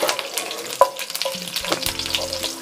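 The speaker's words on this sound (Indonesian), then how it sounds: "Minyaknya sudah panas. Ini saya goreng dulu daun jeruk purut ya." Kaffir lime leaves fry in hot oil, giving a constant crackling sizzle with scattered pops and the occasional scrape of a utensil stirring in the pan.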